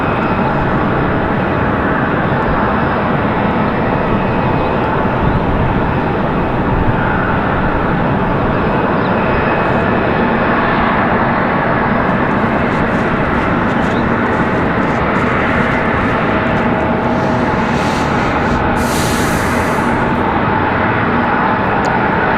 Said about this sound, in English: There's a Delta CRJ making its way around the corner.